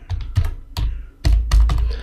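Fast, uneven keystrokes on a computer keyboard, with clustered clacks and heavier thumps close up, with no voice over them.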